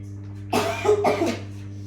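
Two close, rough coughs in quick succession over a steady electrical hum, with a short throaty tail after the second.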